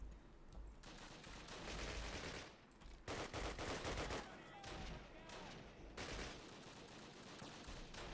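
Gunfire in the WWII shooter Call of Duty (2003), British campaign at Bénouville: dense machine-gun bursts and rifle shots keep firing nearly without pause, loud and close, with a brief lull in the middle.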